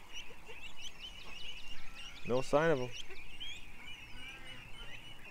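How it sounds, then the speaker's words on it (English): Ducks gather and quack: a close burst of two quick quacks stands out among softer calls and chirps, while someone speaks quietly nearby. "the ducks are, more and more ducks are coming to me here."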